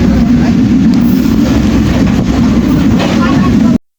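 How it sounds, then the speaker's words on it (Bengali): Steady low rumble and rattle heard from inside a moving passenger train travelling from Natore to Dinajpur, with continuous loud track and wind noise throughout and no talk. "সাথে ট্রেনের সাউন্ড তো শুনুন।"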